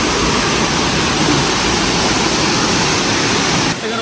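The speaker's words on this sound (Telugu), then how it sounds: "తీర్థగర్ వాటర్ ఫాల్ అంటే ఇదేనండి" Tirathgarh waterfall in Chhattisgarh gives a loud, steady roar of plunging water, broad and constant, heard close with no voices.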